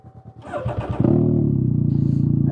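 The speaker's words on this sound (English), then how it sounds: "welcome to my really loud exhaust that's missing the P1X tip that melted and self-destructed yesterday" A Can-Am Ryker motorcycle with a loud exhaust missing its melted P1X tip. The engine catches after a brief start, then settles into a close, loud, steady throbbing rumble that holds to the end.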